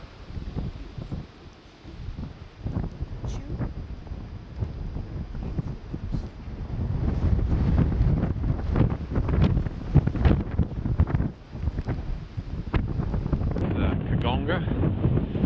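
Strong wind on New Zealand's Otago Rail Trail buffets the microphone in a gusty roar that swells louder and more constant through the second half.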